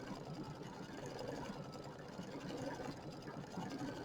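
An embroidery machine stitches a small top knot on an in-the-hoop bench buddy figure, giving a continuous low, even hum with a faint rapid needle pulse at moderate distance.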